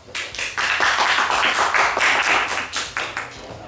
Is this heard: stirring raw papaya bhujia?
no